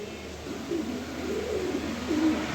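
Pigeons coo in soft, low murmuring phrases a short distance away, a few rising bursts over a steady background hush in a loft of fancy pigeons.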